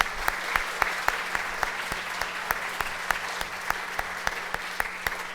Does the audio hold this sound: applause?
yes